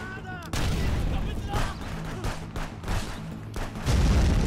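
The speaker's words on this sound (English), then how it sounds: "Oh, no, they're blowing me up." Grenades explode in Contraband Police, a run of loud booming blasts with gunfire around them and a voice talking over the chaos.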